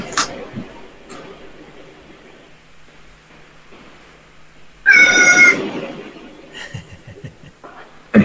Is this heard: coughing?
no